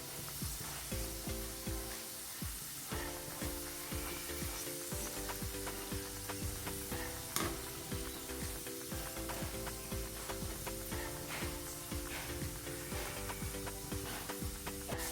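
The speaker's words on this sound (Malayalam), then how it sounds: "ഇടയ്ക്കിടെ ഇളക്കി കൊടുക്കാം." Besan and rava dry-roasting in a pan for laddoos give a steady, faint sizzle. Repeated scraping strokes of stirring come at an even pace throughout, close and quiet with no voices.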